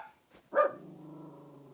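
A dog barks angrily at neighbors walking outside, one loud close bark followed by a lingering, lower growl-like tone, with a fainter yip just before.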